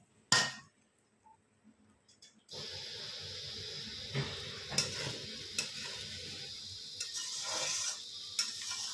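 Fried rice with ghee gets stirred in a hot pan, continuous sizzling and hiss with repeated scraping knocks of the spatula, after a brief sharp clatter and near-quiet start.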